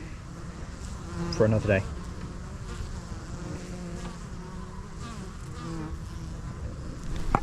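Honeybees buzz around a hive up close in a steady drone, with a brief voice and a few short knocks partway through.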